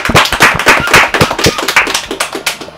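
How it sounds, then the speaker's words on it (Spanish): Sharp, close hand claps from a small audience for a metal band at a studio session, a quick irregular burst that stays loud, then trails off. "Un aplauso bien fuerte para ellos."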